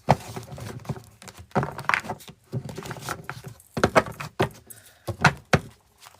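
Repeated quick bursts of cards being shuffled, papery flutters and soft slaps in an uneven rhythm, close by with no talking.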